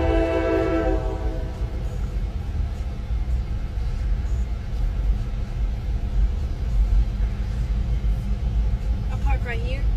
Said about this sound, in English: that's an NS train